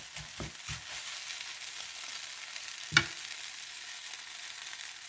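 Grated potato and carrot sauté in a pan with a soft, even sizzle, a few low knocks at the start and one sharp utensil clink midway.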